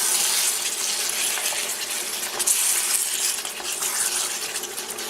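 Chicken meatballs are stirred into a pasta sauce for Greek keftethes, giving a steady wet, sloshing, scraping sound close by with no talking.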